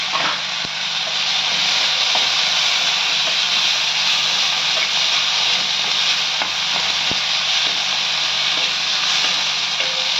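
Ginger garlic paste sizzles and fries steadily in a hot pan for an egg gravy, a loud continuous hiss of oil and moisture with a couple of faint stirring clicks, no voices.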